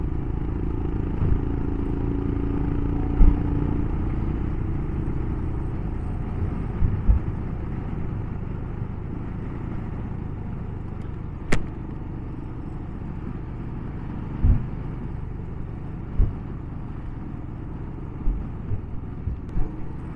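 Royal Enfield motorcycle riding a coast road near Carboneras, its steady engine drone and rumble continuous throughout with wind buffeting and occasional sharp clunks and knocks over bumps.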